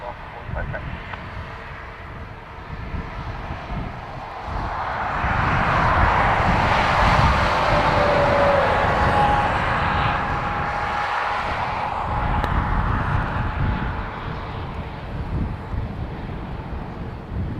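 An airliner takes off from runway 10 right at Dublin Airport, its broad jet roar swelling from about six seconds and holding steady amid wind noise across the whole stretch, with a voice speaking faintly underneath.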